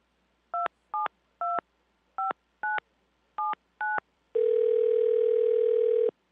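Seven short two-tone dialing beeps in an uneven rhythm, followed by a steady, loud dial tone lasting about two seconds.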